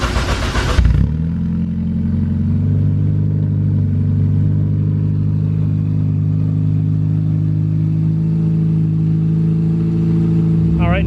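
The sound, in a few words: Honda Civic EF K20 engine with titanium exhaust idling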